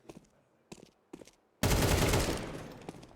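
Gunfire in a Counter-Strike match at a BLAST Premier semi-final between FaZe and Team Spirit: a few sharp separate shots, then a loud sustained burst that roars on and slowly fades, with little talk.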